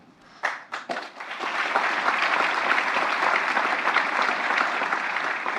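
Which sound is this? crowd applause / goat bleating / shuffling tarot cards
crowd applause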